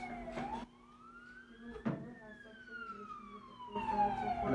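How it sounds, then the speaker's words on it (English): An ambulance siren wails in slow rising and falling sweeps, fairly distant, with faint background murmur. "Well, the ambulance."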